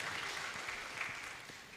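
A church congregation claps for a confirmation candidate during a confirmation service, the applause a steady, dense patter of many hands at a moderate level throughout.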